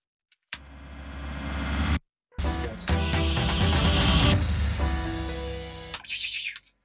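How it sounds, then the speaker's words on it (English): A rising, swelling effect with a metallic, splashy spring reverb wash, cutting out briefly before a dense, noisy build that fades into clanging tails. "Here is that spring reverb."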